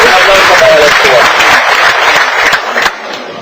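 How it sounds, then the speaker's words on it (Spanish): Loud applause from a stand-up comedy audience, a dense continuous burst of clapping with cheering voices that fades near the end. "Un aplauso para los cubanos."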